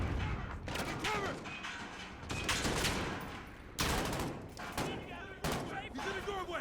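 Heavy gunfire in a Call of Duty battle, with repeated loud bursts and thuds in dense clusters, shouted voices breaking through the shooting.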